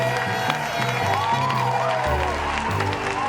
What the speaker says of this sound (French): je vous demande s'il vous plaît de faire un tonnerre d'applaudissements pour nos champions